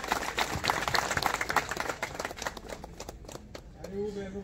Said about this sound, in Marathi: जोरदार टाळ्यांचा गजर आपण करायचा।